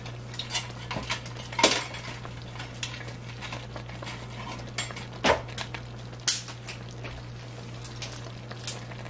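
Spoon clinks and scrapes against a pot while stirring arroz con dulce, a rice pudding, in scattered close taps and scrapes under a steady low hum.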